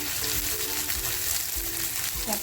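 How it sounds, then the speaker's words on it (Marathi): Surmai fish coated in coarse masala frying in hot oil in a pan, a short burst of dense, close sizzling with a few soft crackles and no talking over it. "मी याच्यावरती एकत्र फ्राय करते"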